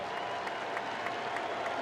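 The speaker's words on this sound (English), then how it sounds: "they're getting up, they're cheering" A baseball crowd at Wrigley Field cheers and applauds in a steady, distant wash of sound with no single voice standing out.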